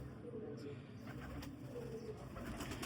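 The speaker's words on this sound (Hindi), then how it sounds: "ये मियाँ साहब वाले सलारे कबूतर हैं" Salara pigeons of the Mian Sahab line coo in low, throaty bursts with wing flutters and rustling, close by, while someone talks faintly in the background.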